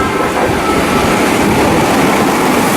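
Eight-car Meitetsu 2000 series μSKY express train rushing through a station without stopping, a loud, dense roar of wheels and rushing air that fills the whole moment up close.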